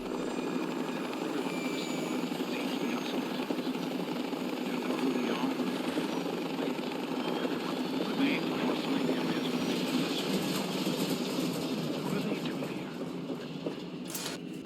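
Helicopter in the video game Fallout 3, a steady loud rotor drone with rhythmic chopping flutter sustained throughout, with speech underneath.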